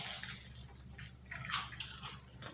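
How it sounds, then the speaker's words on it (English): Crunchy bites into fried lumpia, crisp crackling chews close to the mic with faint background hum and no talking. "I hear crunch."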